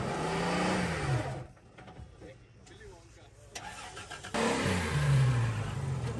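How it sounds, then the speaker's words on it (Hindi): An off-road vehicle stuck badly in deep mud revs its engine hard. Loud, rising engine strains open and close the stretch, and a quieter lull with rumbling and faint background noise sits between them. "दूसरी गाड़ी जो है ये नया अपना ट्रैक बनाने के चक्कर में बुरी तरह से फंस चुकी है"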